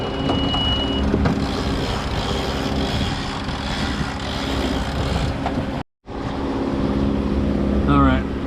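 A sailboat's engine runs steadily out on the Gulf of Mexico, a constant droning hum with a light breeze, cutting out briefly for a moment before resuming, with a faint chirping tone near the end.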